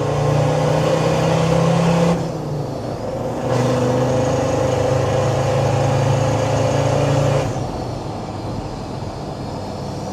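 Land Rover Defender Td5 diesel with an aftermarket VNT turbo and straight-through exhaust, pulling hard at full throttle in third gear. A loud, steady engine drone holds near and constant, easing briefly mid-way before building again, with no talk over it.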